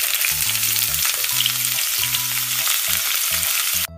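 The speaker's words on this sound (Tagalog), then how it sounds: "Pipiritin ko na rin dito yung 2 perasong itlog." Two eggs fry in a little oil in a pan, giving a constant bright crackling sizzle that stays loud and close throughout, with a few low clunks of the pan or spatula and no voices.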